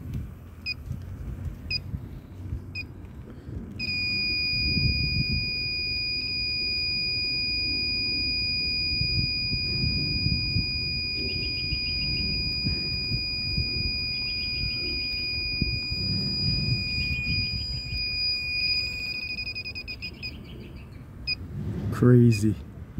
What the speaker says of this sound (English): Let's zoom in, show you what's going on with the leak detector.